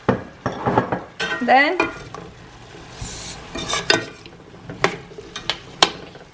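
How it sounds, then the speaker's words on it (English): Ingredients are stirred in a molcajete with close, sharp scrapes and knocks of utensil on stone, plus a short squeaky grind, coming in uneven bursts between brief pauses. "Then keep stirring, guys. Keep stirring. You want all the flavor everywhere."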